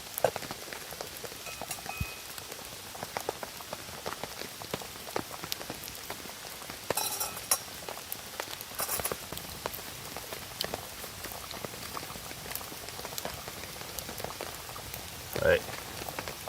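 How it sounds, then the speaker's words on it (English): A pot bubbling and boiling over a campfire outdoors in the rain, its soft simmer mixed with steady raindrop patter on surfaces, with a few louder knocks and brief voices now and then. "it sounds like it's bubbling away lovely."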